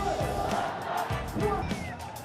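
A large crowd at the India-Pakistan border closing ceremony cheers and shouts steadily, a dense roar with whoops rising and falling throughout, with no clear pauses.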